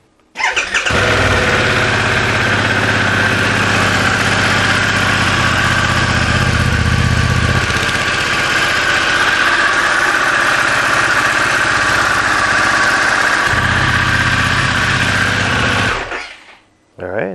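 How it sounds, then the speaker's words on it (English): A Harley-Davidson Pan America motorcycle engine starts and idles steadily nearby with its exhaust covered by a towel, a loud continuous rumble that shifts slightly in tone before cutting off. "I'm going to start the motorcycle, I'm going to cover the exhaust with a towel"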